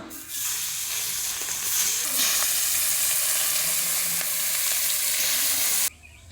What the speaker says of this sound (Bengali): এবার বাকি মাছটা এই তেলেই ভেজে নেবো।